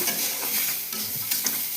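Potatoes, egg and chopped onion fry in oil in a pan, a loud, close sizzle broken by a few stirring scrapes.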